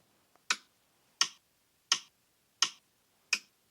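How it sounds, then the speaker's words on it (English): Five crisp, evenly spaced clicks at a steady moderate tempo, each sharp and short, sounding alone against near silence. "That's what a metronome is, just clicking away."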